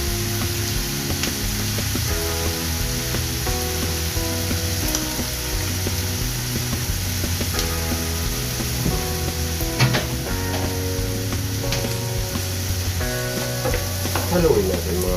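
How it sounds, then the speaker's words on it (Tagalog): Bopis, a Bicol-style dish seasoned with a little oyster sauce, sizzles and fries in a pan while it is stirred steadily. The sizzle runs continuously under a bed of background music, with no talking heard. "Haluin natin mga Koblax."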